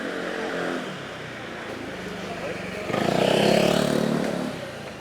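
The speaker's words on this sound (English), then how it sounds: "motorbike. Here we go." A motorbike rides past on a city street, its engine swelling to a loud pass in the second half and then fading, heard over background street noise.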